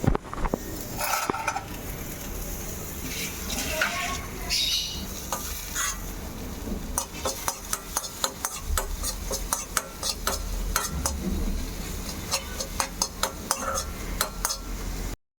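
Vegetables sautéing with chopped garlic and spring onion in a pan: a steady sizzle under repeated clinks and scrapes of a spatula stirring, growing into a quick rhythmic tapping near the end.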